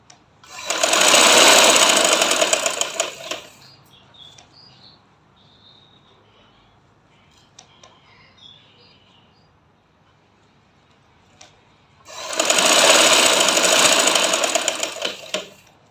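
A sewing machine stitching elastic into a lehenga runs in two loud, close bursts of rapid whirring, separated by a long quiet stretch with faint handling noises and soft outdoor chirps.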